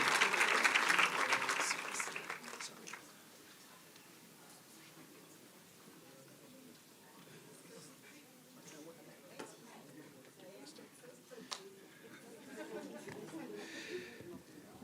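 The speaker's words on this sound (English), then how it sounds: "Can we give the Honorable Minister a huge round of applause, please?" An audience at a STEM mentorship program event applauds the Honorable Minister, a burst of loud clapping that quickly thins to scattered claps and murmured chatter in a large hall.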